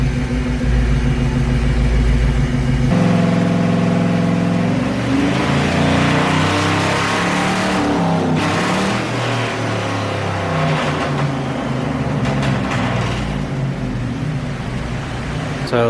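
An LS-swapped Foxbody Mustang on a test run accelerates hard, its loud engine note climbing through the gears with rising and shifting pitch, close and continuous throughout with no talk.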